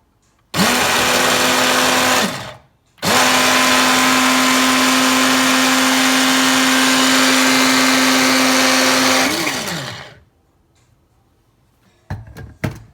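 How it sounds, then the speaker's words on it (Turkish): A food processor grinding grated onion, running in two loud sustained bursts with a short pause between them, its motor pitch dropping as it winds down, followed by a few light clatters. "3 soğan rendesini yavaş yavaş rondan geçirdikten sonra kaba koydum."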